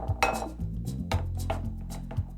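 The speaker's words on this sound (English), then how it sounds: "we'll just mix this up before we add the other ingredients" Food ingredients are mixed in a bowl, with repeated close clinks and knocks of a utensil against the dish over a low kitchen hum, in an irregular stirring rhythm.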